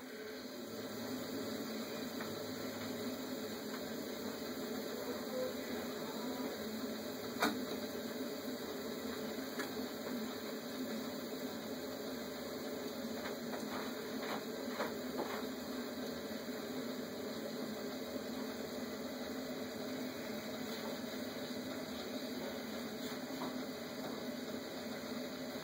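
A sump pump's low, steady motor hum runs throughout with faint mechanical rattling and clicks nearby; no speech.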